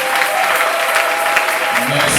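A church congregation at a revival gathering applauds and cheers loudly, a dense continuous roar of clapping with shouting voices and a held musical note in the background.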